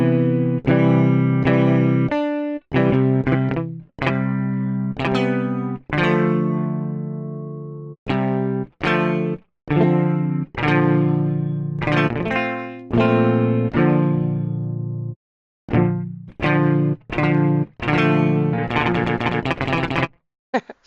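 Clean, undistorted guitar played through the InstaScale app, a series of distinct plucked notes and short phrases with brief gaps between them, close and fairly loud, ending in a quicker run of notes.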